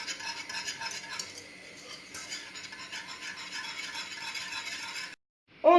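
Ice cream mixture simmering on low heat in a pot is stirred steadily with a spoon, giving continuous close scraping and swishing for about five seconds, then a brief silence and a short clink at the end.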